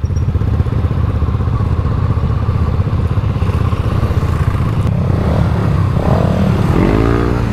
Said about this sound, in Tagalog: Ang ganda ng tunog.